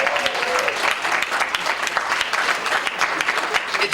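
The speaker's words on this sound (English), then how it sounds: "Give her a round of applause." A crowd at a Martin Luther King Day event in a hall claps steadily and fairly loudly for a woman being honored, the applause continuous with scattered sharper claps.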